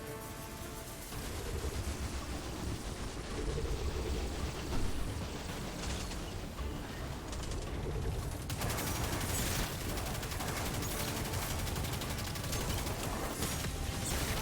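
Dense gunfire rattles continuously in a video game battle while grenades are shot down, a loud unbroken stream of rapid shots and mechanical clatter, intensifying partway through.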